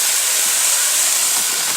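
Cabbage dropped into a 4.5 quart pot of hot bacon grease, a loud, steady, close hiss of sizzling fat filling the whole moment without pause.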